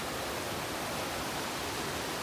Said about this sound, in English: I'm amazed at how strong this river still is.